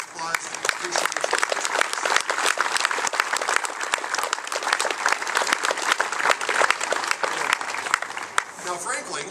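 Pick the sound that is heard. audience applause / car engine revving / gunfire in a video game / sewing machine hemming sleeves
audience applause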